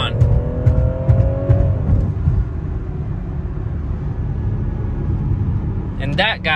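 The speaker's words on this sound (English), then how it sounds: "Launch control active, release brake." BMW F36 440i Gran Coupe M-Sport from 2019 launching hard with launch control, a loud, steady engine roar building from a standstill and holding under full throttle, with brief talk near the end.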